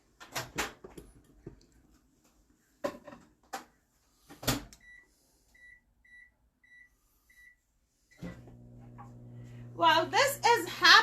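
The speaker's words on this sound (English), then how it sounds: "I'm going to put it in microwave for 11 minutes with no seal" A microwave oven cooking lasagna pasta starts with a few door clunks and button beeps, then a steady low hum sets in near the end. A person talks over it.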